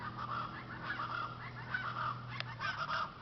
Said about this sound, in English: Man, I don't know what kind of bird that is.